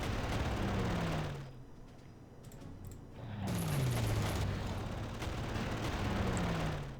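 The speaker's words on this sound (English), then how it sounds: "And just shoot the shit out of these guys." Unit gunfire in the World War II strategy game Panzer Corps during the Operation Sealion campaign: loud sustained firing and blasts that drop out briefly, then return with falling whistling tones.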